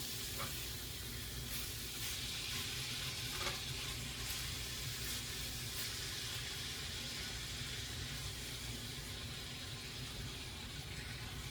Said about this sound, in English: And we're going to cook this until most of the liquid is out of the zucchini.